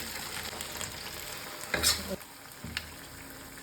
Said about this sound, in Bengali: টমেটো কেচাপ যেটা হয় বা টমেটো সস, ওটাকে দিয়ে দিলাম লো ফ্লেমে।